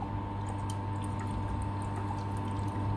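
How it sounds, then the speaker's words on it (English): Water pouring into the water tank of a hand-held laser cleaning machine, a continuous, steady splashing flow over a low mechanical hum, with no one speaking. "we need to put in the water here to the water tank"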